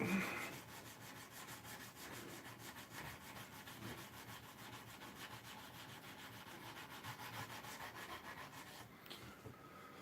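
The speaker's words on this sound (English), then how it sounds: "Certainly takes the monotony out of hand sanding for hours." Steady back-and-forth rasping of sandpaper on wood, continuous and close, with a brief brighter scrape near the end.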